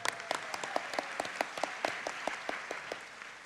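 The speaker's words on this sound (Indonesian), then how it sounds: "Tepuk tangan buat kita semua." Sparse applause from a church congregation at a Parents' Day worship service: faint, distant claps in a steady, almost rhythmic patter, with no voices over it.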